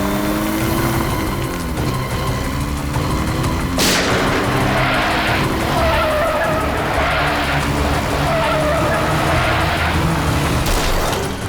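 Car speeding away with tires skidding and squealing, engine roaring loud and close, with sharp bursts of noise and sweeping tire tones over a dense, continuous rumble.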